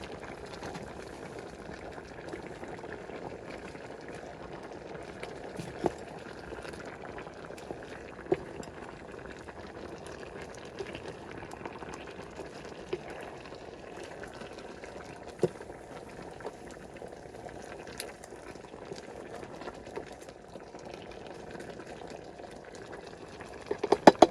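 A Georgian stew simmers in a pot on a stove, a soft continuous bubbling with occasional faint pops and clicks and a few sharper taps at the very end.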